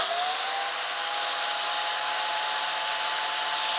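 A 400-watt biscuit jointer, powered by a portable EcoFlow generator, runs continuously at full speed, a loud, steady high-pitched motor whine with no talking.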